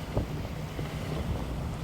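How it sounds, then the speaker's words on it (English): Strong gusty wind of 20 to 24 miles an hour, gusting to 30, roars across the microphone in a continuous low rush, loud and close, with no voices. "20-mile-an-hour winds, 24-mile-an-hour winds with gusts up to 30 miles an hour."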